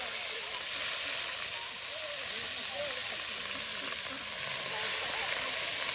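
Onion and garlic paste frying in hot oil with cumin in a village-style beef curry, a steady broadband sizzle and hiss held close throughout.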